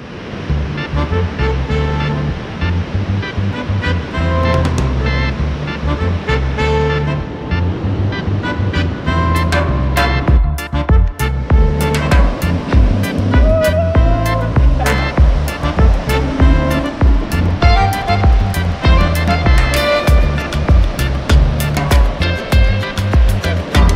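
An e-bike whips fast along a beach beside the surf, a steady roar of wind and breaking waves filling the recording with sharp rhythmic clicks and rattles from the ride.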